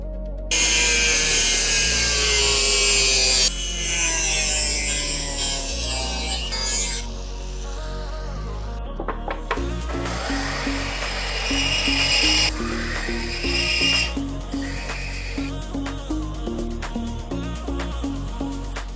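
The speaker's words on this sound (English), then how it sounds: "I'm just cutting this with the angle grinder" An angle grinder cuts a steel exhaust pipe for a V10 Lincoln Continental, a loud, continuous harsh rasping whine close by that shifts in pitch as the disc bites, with brief breaks between passes.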